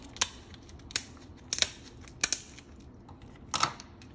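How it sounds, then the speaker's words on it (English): Five crisp scissor snips cut through a hard lobster shell at an uneven pace, close up, with a faint crackle between cuts. "You get a scissors, you cut down the middle,"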